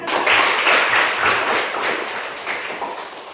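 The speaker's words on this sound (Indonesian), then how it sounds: "Tepuk tangan dulu." A classroom audience claps hands, a dense, moderately loud patter of applause that gradually fades toward the end.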